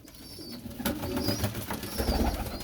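Pigeons at a loft coo in low, rumbling murmurs, several birds overlapping in an irregular, close chorus with no talk.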